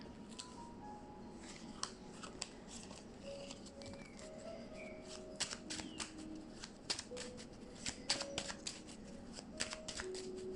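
A deck of cards is shuffled and handled for a tarot-style reading, giving soft riffling and flicking taps near the microphone, quiet and intermittent, with no one talking.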